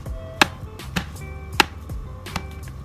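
A knife chops through frozen banana on a cutting board, four or five sharp, close thuds spaced unevenly over a quiet background.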